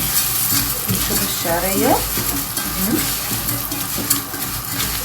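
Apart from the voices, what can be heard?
stirring onion frying in oil and ghee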